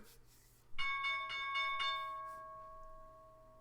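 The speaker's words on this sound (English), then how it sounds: "here's the bell" The stock market opening bell rings out in a rapid series of about four clear metallic strikes. A long, bright tone then lingers and slowly fades over the following seconds, with no talking.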